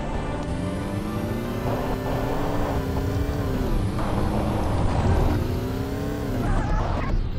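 Car engine from the video game Payback 2, driving steadily with a droning, shifting engine tone that rises and falls slightly, loud and continuous with no talk.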